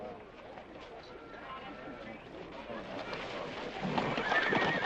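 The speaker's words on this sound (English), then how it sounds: "That Agamemnon's a good horse." A horse whinnies and its hooves clip-clop at a run, growing louder toward the end, over a faint murmur of voices in a 1963 western setting.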